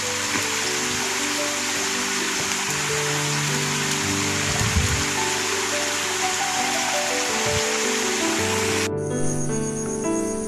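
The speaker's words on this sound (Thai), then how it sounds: "ตอนนี้ฝนกำลังตกอยู่นะครับ" Rain falls steadily on rice paddy fields, a constant close hiss of drops on surfaces, with faint insect-like tones and a brief sharper change near the end.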